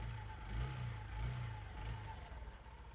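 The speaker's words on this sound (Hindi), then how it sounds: "ये सेल्फ कैसे लेती है बाइक वो सुनते हैं थोड़ी सी पीछे से" Motorcycle engine turning over on its additional electric self-start motor, a brief whirring crank that catches into a low, pulsing idle, heard fairly close with no talk.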